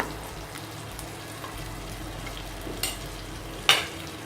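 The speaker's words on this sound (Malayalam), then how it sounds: "ഇനി നമ്മൾ ഒരു പാനിൽ ആദ്യമായിട്ട് കുറച്ച് ബട്ടർ ഇട്ട് കൊടുക്കുക" Butter melting in a pan gives a low, steady sizzle that runs unbroken and fairly quiet, with two brief brighter clicks near the end, probably a utensil touching the pan.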